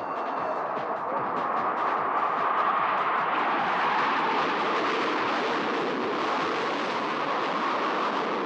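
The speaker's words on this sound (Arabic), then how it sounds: "الطائرة إلكتريك لايتنينغ ذات المحرك النفاث والصوت العالي جدا" A loud, continuous jet roar from an English Electric Lightning's engines, close and steady throughout with a broad rushing hiss and no other sound.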